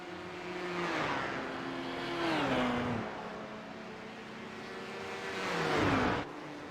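LMP1 prototype race car at Monza, closing from behind with a rising, howling engine note that swells and sweeps in pitch, sounding over a steady background of other engines.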